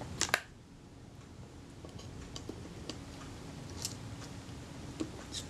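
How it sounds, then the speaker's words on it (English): Retina Reflex S camera shutter being cocked and then released, a few faint dry mechanical clicks and small ticks spread over a quiet background. "I'll just cock that shutter and release it again."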